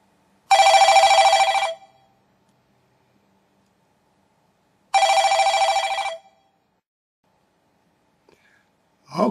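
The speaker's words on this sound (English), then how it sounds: "The phones are starting to ring." Telephones ring in two loud, sharp bursts about four seconds apart, each lasting roughly a second, with silence between them and a faint voice starting at the very end.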